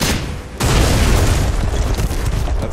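In the video game Deadfall Adventures, a loud explosion sets off a rockfall at an Arctic base, bursting in after a quieter half-second and rolling into a sustained, dense rumble of tumbling debris.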